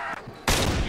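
A single loud Kar98k rifle gunshot in a Call of Duty zombies game, bursting in abruptly after a quieter moment and ringing out to the end.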